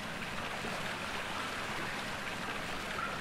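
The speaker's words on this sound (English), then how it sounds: "I'm creeping through the water" Wading footsteps through water in Amnesia, a continuous soft splashing and sloshing wash, steady and fairly quiet throughout with no distinct individual steps.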